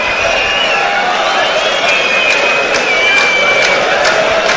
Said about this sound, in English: Crowd aren't happy.